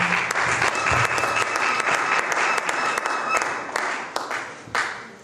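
Church congregation applauding at a special Sunday Christmas Eve service, steady dense clapping filling the room throughout, loud and close, with a few voices mixed in.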